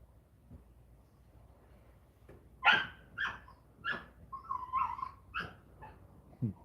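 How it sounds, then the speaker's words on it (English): A dog barks several times in short, separate bursts with whimpering yips between them, fairly close and clear against a quiet background, with no talking. "That's a dog."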